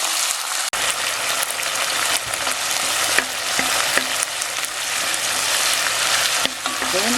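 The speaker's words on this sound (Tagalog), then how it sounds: "hintayin natin maluto itong tomatoes" Tomatoes frying in a pan for a spicy beef caldereta, giving a steady close sizzle and crackle throughout, with occasional scrapes and knocks of a utensil stirring.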